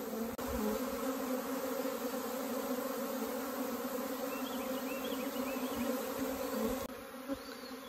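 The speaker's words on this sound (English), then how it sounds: "If the queen made it into the box, the likelihood of the workers and drones following is quite high." A honeybee swarm hums steadily around a hive box outdoors, a dense, continuous buzz holding close and loud for the whole stretch with no voices.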